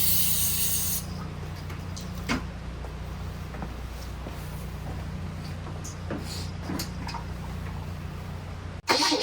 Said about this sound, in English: When I open this, I hear the fuel pump run,